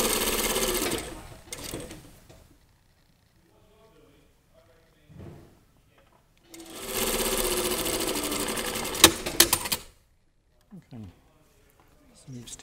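A sewing machine stitching a chest pocket onto a tailored jacket, two bursts of rapid mechanical stitching separated by a quiet stretch with faint handling and brief talk.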